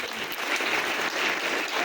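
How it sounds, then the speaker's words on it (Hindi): A brief burst of dense crowd applause at an intercollege gathering in Mahoba, India, steady and fairly loud throughout. "बजाओ ताली बाबा साहब।"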